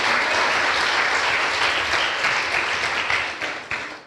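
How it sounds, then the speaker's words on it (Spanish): Congregation in a church service breaks into loud, sustained applause filling the room, dense clapping holding steady for a few seconds before tapering slightly at the end. "Dale un fuerte aplauso a Él."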